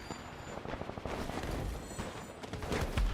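Gunfire in a shooter video game, a steady stream of rapid, fairly loud shots with distant booms mixed in, no talking.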